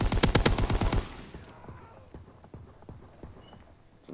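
In the Call of Duty WWII video game, a loud, rapid burst of automatic gunfire lasts about a second, then scattered fainter, more distant shots and thuds follow.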